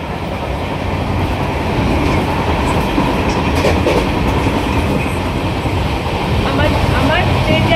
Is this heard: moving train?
yes